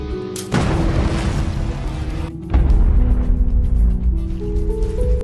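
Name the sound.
explosion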